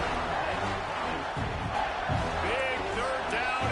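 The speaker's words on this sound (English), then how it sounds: "this crowd is getting behind this defense" Stadium crowd roaring in a college football video game during a big third down in the red zone, a dense continuous wall of cheering with brief swells, under sparse game commentary.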